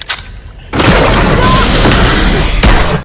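Gunshots from the crocodile thriller film Crawl, fired at an alligator, heavy booming blasts with a roaring rumble that fills nearly the whole stretch, very loud and close.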